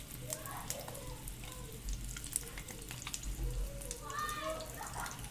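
Eggs fry in a pan with a little turmeric sprinkled on top for an egg curry; a soft, steady sizzle with light crackles runs beneath a person talking.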